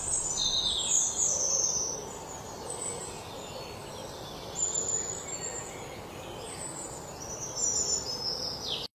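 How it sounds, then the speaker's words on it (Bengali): Birds call by a lake in Bhawal National Park, Gazipur: high, thin chirps and whistles come in scattered bursts over a steady outdoor hum, loudest near the start and end. "এই পাখির ডাকাডাকিতে আপনার বাসায় যেতে মন চাইবে না।"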